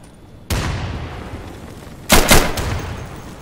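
Frag grenade detonation in the video game Insurgency, a sharp loud boom with a decaying tail, then a second cluster of close, heavy blasts or gunshots a moment later.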